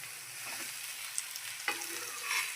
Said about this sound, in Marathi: लवंगा आणि 2 वेलची टाकलेली आहे मी भाजायला. ते मी चांगलं भाजून घेणार आहे.